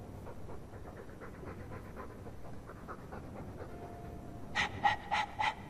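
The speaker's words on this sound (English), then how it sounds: "All that noisy dog breath, day in, day out." Dog panting from the game Dragon Age 2, steady close breathing throughout, with a few sharper louder pants near the end.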